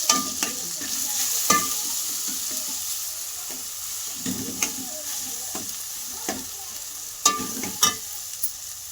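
Salt, turmeric, chili powder and ambadi stirred into a frying pan for palak bhaji, steady sizzling under irregular scraping spoon strokes and clinks against the pan, close and moderately loud.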